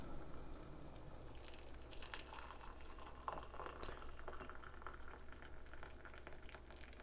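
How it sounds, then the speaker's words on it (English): A Star Wars Vintage Collection Ahsoka Tano action figure sits in boiling hot water, which gives a steady bubbling, simmering wash with small pops. The sound runs continuously and fairly close, with no speech over it. "here is Ahsoka just about to get the hot water treatment"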